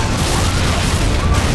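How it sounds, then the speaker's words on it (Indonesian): A massive explosion tears through a slum settlement in a gangster film, a dense, sustained roar of blast and rumble filling the whole moment, loud and continuous with no voices. "terjadi sebuah ledakan dahsyat yang membumi hanguskan pemukiman tersebut"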